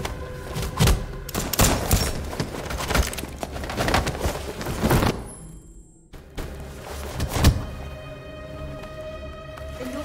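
Gunfire in the video game Detroit: Become Human, a series of sharp loud shots and thuds with a short quiet gap, then more scattered shots over tense game sound.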